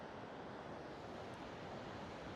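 Water from Andrab Lake in Kalam streams downhill in a continuous, rushing roar, a broad steady wash of flow heard close by with no voices.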